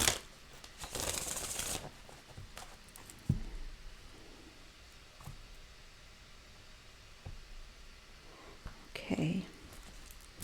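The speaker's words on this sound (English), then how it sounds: "One more shuffle." Tarot cards riffle-shuffled at close range in a brief papery burst near the start, followed by quieter handling and a soft thump or two in a quiet room.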